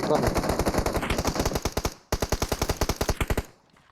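Rapid automatic gunfire from a shooting video game rattles out in two long, evenly spaced bursts with a brief pause between them, loud and close.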